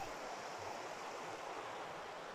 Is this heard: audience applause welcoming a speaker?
no